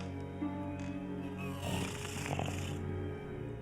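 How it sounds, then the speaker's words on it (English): A film sound effect made from asthmatic breathing mixed with gasping through water held in the mouth plays as a low, rasping, snore-like rattle that swells and fades, close and unbroken, without speech. "recorded his breathing, which he then mixed with strange sounds he made himself by holding water in his mouth and gasping"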